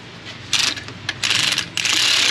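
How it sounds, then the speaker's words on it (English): Ratchet clicking in short bursts while tightening the alternator adjuster bolt on a 2013 Toyota Corolla, three quick runs of close, crisp pawl ticks separated by brief pauses, no talking. "As I tighten this adjuster bolt right here, it's going to draw the top ear of this alternator outwards"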